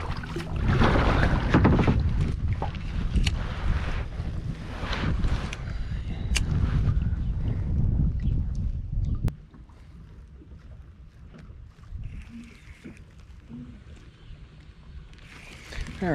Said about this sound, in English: And the wind's going, of course, which isn't helping.